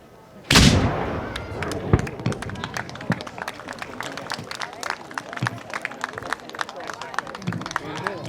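Ceremonial cannon fired at a Fourth of July ceremony in Fairhaven: one loud, sharp close blast with a booming decay, followed by crowd noise, shuffling and scattered clapping.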